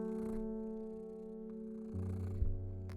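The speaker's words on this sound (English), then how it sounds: "I'm holding her up to the microphone. I don't know if you can hear her purring." Low, steady purr of a pet cat held right up to a microphone, a continuous close rumble with a shift in tone near the end, set against a faint sustained musical drone.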